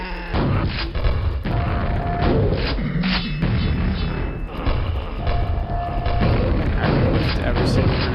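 Grenade explosions in the first-person shooter Quake, a series of loud booming thuds and impacts scattered across the stretch amid other game sounds, with a voice talking throughout.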